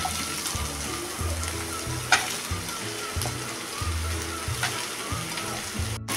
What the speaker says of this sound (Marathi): ह्या पण आता तेलात मऊ पडेपर्यंत चांगल्या परतून घ्यायच्या आहेत